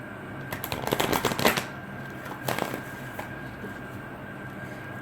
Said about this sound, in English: One shuffle.